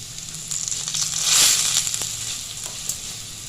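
Grated coconut roasting with curry leaves in a hot pan for a Kerala-style roasted-ground chapati curry gives a steady crackling sizzle that swells briefly in the middle, with no voices.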